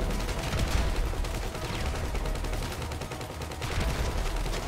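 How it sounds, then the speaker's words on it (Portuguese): Dense, steady gunfire peppers a car in GTA Online, a continuous rattle of rapid shots and impacts sustained at high loudness with no pauses, no voices over it. "a gente leva muito tiro nesse carro"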